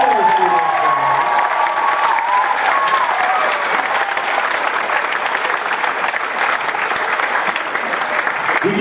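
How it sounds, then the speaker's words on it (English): Sustained audience applause for students at an evening school performance, a steady wash of many hands clapping throughout, with a voice briefly heard at the start. "Let's give them one more round of applause for all of our students."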